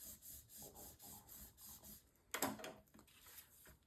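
Paper flap on a Stamperia Fortune mini album is burnished down by hand: repeated soft rubbing strokes close by, then one louder, rougher scrape, with no talking.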